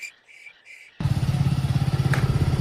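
A tractor engine starts up loud and close after a second of quiet with faint bird or insect chirps, then settles into a steady, rapidly pulsing chug.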